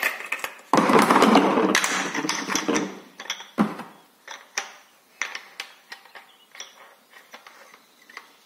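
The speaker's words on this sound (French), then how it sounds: "je commence déjà le tranchant à la meuleuse" An angle grinder sharpens a forged knife edge, a loud burst of harsh grinding on metal for a few seconds, then fades into a series of sharp clicks and clinks.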